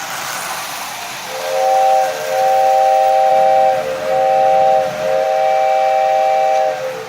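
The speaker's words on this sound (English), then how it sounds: "And I have the new whistle finished." A homemade toy train steam whistle sounds in several sustained, wavering blasts with short breaks between them, loud and close over a soft background hiss.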